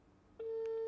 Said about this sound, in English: this one is ringing.